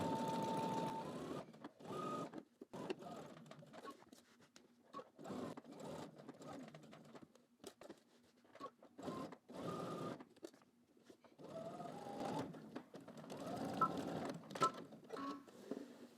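A sewing machine edge-stitches a patch pocket onto the back piece of a garment, a close, quiet rattling hum in repeated short runs broken by brief pauses where the fabric is pivoted at the corners.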